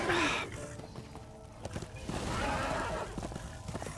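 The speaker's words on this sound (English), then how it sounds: "I'm amazed they actually gave you your horse right away." A horse in the video game Darksiders 2 gives a brief whinny and then clip-clops along at a gallop, moderately close, with low game sounds underneath and a voice speaking briefly.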